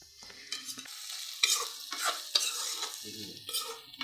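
Potatoes stir-frying with ginger garlic paste in a pan, with intermittent bursts of sizzling and repeated scraping, stirring strokes, close and fairly quiet between the strokes.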